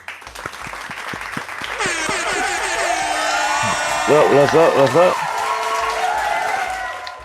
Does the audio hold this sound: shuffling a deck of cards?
no